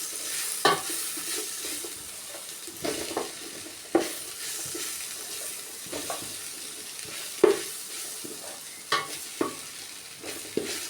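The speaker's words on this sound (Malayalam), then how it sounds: "ഇതിലേക്ക് നമുക്ക് പച്ചമുളക് ചെറുതായി അരിഞ്ഞത്, വെളുത്തുള്ളി ചോപ്പ് ചെയ്തത് ചെറുതായിട്ട്, ഇഞ്ചി അരിഞ്ഞത് ഇത്രയും കൂടെ ഇട്ട് നല്ലവണ്ണം വഴറ്റി കൊടുക്കുക" Finely chopped green chili, garlic and ginger sauté in hot oil in a pan. A spoon scrapes and clacks against the metal at uneven intervals over a soft, steady sizzle, close up and without voices.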